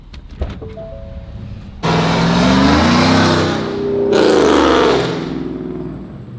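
A car fitted with straight pipes and roughly 280 horsepower revs hard nearby, two loud sustained bursts of raw exhaust roar rising and falling, after a brief quieter idle at the start.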